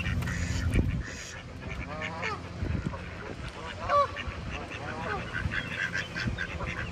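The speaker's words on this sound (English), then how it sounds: "Ducks and geese." Ducks quacking and geese honking nearby in scattered calls, over outdoor background noise with some speech.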